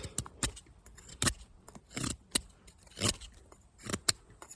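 An ESEE 4 knife with custom Pertinax scales and a factory edge carves wood into a feather stick, making about half a dozen sharp, close scraping strokes in an uneven rhythm with short pauses between them.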